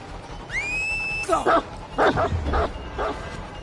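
Houndmaster's dog in Dead by Daylight barks and yips several times in quick bursts, loud and close, after a rising whistle-like tone, with a voice partly audible beneath.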